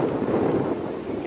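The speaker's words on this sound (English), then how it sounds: "A bit windy here in Reading." Wind blows hard across an outdoor American football field in Reading, England, making a steady, loud, rumbling roar of wind buffeting the microphone, with no talking heard.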